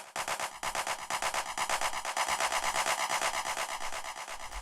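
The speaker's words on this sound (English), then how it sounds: "So this is meant to be more of a transitional sort of clap effect thing here." A processed clap sample treated with delay and reverb for a transitional effect, a dense repeating wash of echoing hits that holds steady and loud before easing slightly at the end, electronic techno production.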